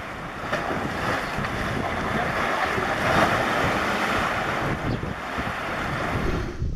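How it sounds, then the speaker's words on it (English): Steady roar of ocean waves washing ashore in the Philippines, heavy with wind buffeting the microphone, loud and continuous. "so you can hear the waves"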